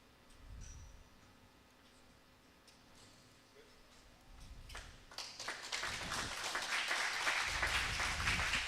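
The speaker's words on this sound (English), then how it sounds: "Nice little round of applause as everyone was holding their breath there for a moment." Spectators at a pickleball singles tournament break into applause, scattered claps at first that swell into a fuller round, with commentary voices heard underneath.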